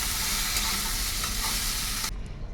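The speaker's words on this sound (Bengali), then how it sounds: "শুক্তো সবজিগুলো ভেজে নিই" Vegetables for shukto fry in a hot pan and are stirred, a steady close sizzle with scraping stirs, cutting off sharply near the end.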